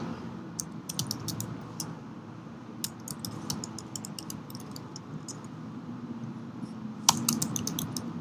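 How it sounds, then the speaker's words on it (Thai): Close computer keyboard typing in an office, scattered bursts of key clicks over a low steady room hum, with a sharper cluster of taps near the end. "ตรงนี้เราก็พิมพ์รายละเอียดเข้าไปครับ"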